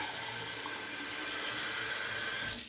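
Water runs steadily from a tap into a sink, a constant close hiss with no pauses, while a 24 mm Scally badger shaving brush is wrung out beneath it.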